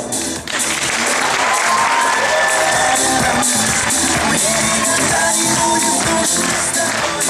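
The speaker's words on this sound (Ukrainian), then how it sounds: "Аплодисменты Элвису." A large audience bursts into loud, sustained applause mixed with crowd noise and scattered cheers for the performer Elvis, continuing strongly and evenly throughout.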